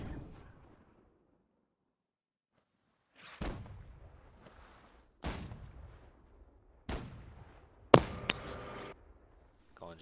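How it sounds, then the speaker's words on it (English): Ship cannons fire in a naval battle in Holdfast: Nations at War, with four loud, separate booms spaced a second or two apart and rolling echoes, the last shots heavier and sharper, after a brief quiet gap. "Just get your cannons aimed up properly at it and then fire at it"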